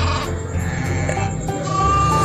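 Sheep bleating amid a dense, noisy farm-animal background, continuous and fairly loud with no speech.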